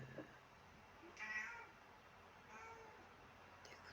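Cats meowing indoors, a couple of faint, brief mews with quiet room noise between them.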